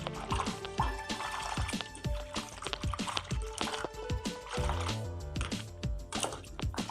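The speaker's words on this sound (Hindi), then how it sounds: "हम इसके अंदर गंदम का आटा डाल के धोएंगे। इसको मिक्स कर लेंगे अच्छा सा हाथ से।" Chicken feet being washed by hand in water mixed with wheat flour, a continuous wet squelching and sloshing with small drips and splashes, close and moderately quiet.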